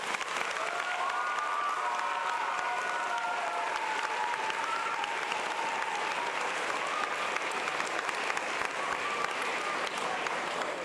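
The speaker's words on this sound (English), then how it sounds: "Please give these students a big round of applause." An audience at a school awards ceremony gives students a big round of applause, steady dense clapping from a crowd that runs for the full length without a break.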